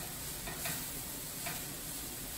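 Ground hamburger and chopped cabbage stir-frying in a pan: a constant dense sizzle with faint stirring scrapes near the half-second and one-and-a-half-second marks, with no voices.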